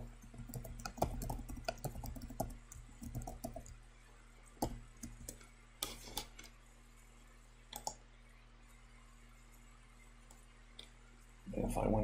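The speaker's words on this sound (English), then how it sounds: "And you can just start typing." Typing on a computer keyboard at a desk, a quick cluster of light plastic key clicks followed by scattered single taps and pauses, close to the microphone and fairly quiet.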